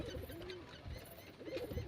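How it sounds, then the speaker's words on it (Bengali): A matched pair of pigeons coos softly in a loft, low murmuring calls rising and falling over steady background noise, with no talk. "এই দেখো একদম জোড়ামিল পায়রা বসে।"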